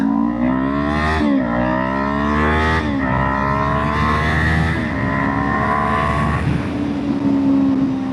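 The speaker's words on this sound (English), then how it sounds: "every time I get a green light, I am ripping the throttle right now" A Kawasaki Ninja 500 motorcycle accelerates hard through the gears, its engine note climbing loudly, dropping at each shift, and climbing again across several pulls, close and continuous.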